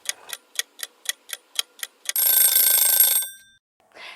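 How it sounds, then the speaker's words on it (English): A kitchen timer ticks in an even run of nine clicks, then rings out with a loud, sustained bright alarm for about a second before cutting off, followed by a brief faint rustle. "The timer's just gone off"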